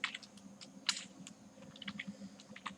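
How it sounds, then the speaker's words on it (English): Nearby keys on a computer keyboard are typed in quick, irregular bursts, soft clicks and taps filling a quiet room with no voices. "Here I will type M under the inverted comma like this."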